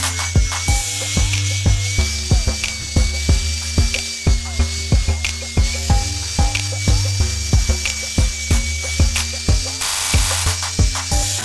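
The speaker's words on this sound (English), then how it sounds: "I'm just going to touch it up with a flap wheel" A flap wheel on a spinning tool touches up a restored aluminum part from a 2001 KTM 250 two-stroke motorcycle, giving a close, steady motor hum broken by regular rhythmic scraping pulses, with no talking.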